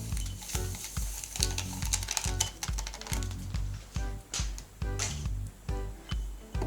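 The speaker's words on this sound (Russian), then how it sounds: "Перемешиваю." A spoon stirs yeast, a teaspoon of sugar and a teaspoon of flour into warm water in a glass, making quick repeated scraping clinks in a steady rhythm, close and fairly loud, with no talking.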